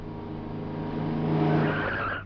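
A car brakes hard to a stop with one long, loud tire screech that swells and then fades out as the vehicle halts, heard close and alone.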